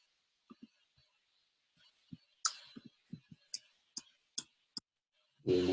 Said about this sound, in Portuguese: desta vez tenho que usar mesmo aqui o teclado